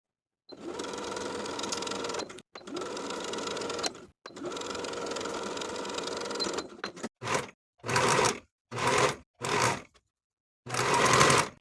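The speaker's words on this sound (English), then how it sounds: "Sew the armhole with a 3/8 inch seam allowance." Sewing machine stitching a blouse armhole seam, several close bursts of steady whirring: three long runs, then a string of short stop-start spurts separated by silence.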